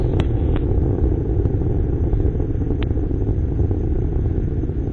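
A Delta II rocket's solid motors burn during launch: a steady, distant roar and rumble, heavy at the low end, with a few faint crackles.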